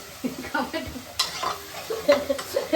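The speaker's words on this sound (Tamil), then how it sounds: "சிக்கன் குழம்பு மசாலா நல்லா வதங்கிடுச்சு இந்த நேரத்தில் நம்ம சிக்கனை போட்டுக்கலாம்" Chicken curry masala being stirred and sautéed in a pan, with irregular close scrapes and knocks of the spoon over a soft sizzle of frying.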